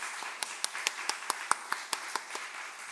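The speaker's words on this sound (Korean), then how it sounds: "감사의 박수를 모두 같이 하겠습니다." A church seminar audience claps in thanks after a lecture, a faint, evenly timed series of about a dozen crisp claps in a steady rhythm, with no talk over them.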